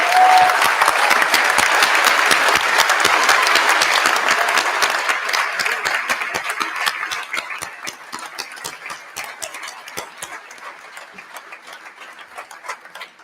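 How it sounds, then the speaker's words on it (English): An audience at a graduation ceremony bursts into loud, dense applause that gradually thins into scattered claps as it fades over about thirteen seconds. "let's just all have a giant clap."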